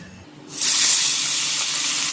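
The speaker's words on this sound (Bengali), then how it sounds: "কড়াইতে তেল দিয়ে দিয়েছি, গরম হয়ে গেছে। এবার আমি মাছ দিয়ে দেবো ভাজার জন্য।" Fish dropped into hot mustard oil in a wok bursts into a loud, steady hiss after a quiet moment and keeps sizzling strongly without letting up.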